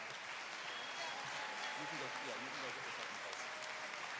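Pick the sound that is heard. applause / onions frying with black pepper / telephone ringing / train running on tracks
applause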